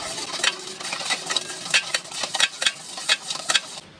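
A spoon stirs salt into a pickle soda mixture, clinking against the glass in a quick, regular rhythm of sharp taps over a soft liquid swish, close up and without speech.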